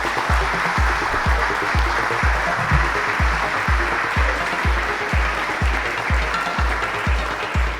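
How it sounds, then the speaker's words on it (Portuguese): An audience at a naval club lecture on D-Day operational intelligence claps in thanks to the speaker, a sustained round of applause with distinct individual claps standing out near the front. "pedir uma salva de palmas"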